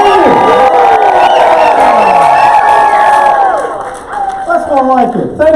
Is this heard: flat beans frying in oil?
no